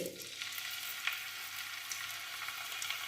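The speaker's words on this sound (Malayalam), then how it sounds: "ഇനി നമുക്ക് ഫ്രൈ ചെയ്യാം നമ്മൾ പാനിലോട്ട് എണ്ണ ഒഴിച്ചിട്ടുണ്ട്" Chicken pieces fry in a pan of hot coconut oil, a steady close hiss and crackle with small pops, with no talking.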